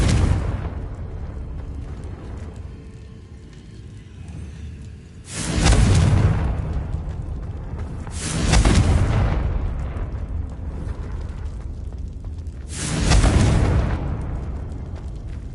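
Confringo blasting spell explosions in the Hogwarts Legacy video game, three loud booming blasts spaced a few seconds apart, each swelling and rumbling away over low ambient game sound.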